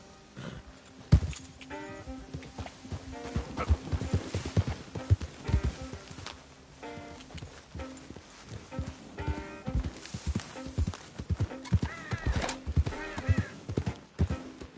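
A horse in a video game trots and gallops, giving a run of rhythmic hoof clip-clops with occasional snorts and whinnies over a steady background of game sound.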